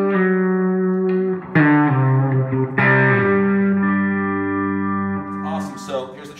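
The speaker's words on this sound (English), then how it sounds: "So I'm running this delay through it." An electric guitar played through a Quilter MicroPro Mach 2 HD amp's delay effect plays sustained, held notes that linger and repeat behind each new note, a spacious delayed echo trailing the playing.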